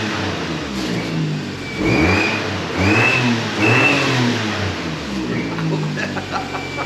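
A cheap old car's engine revs up three times in quick bursts, rising and falling in pitch between idling stretches, close by with no talk.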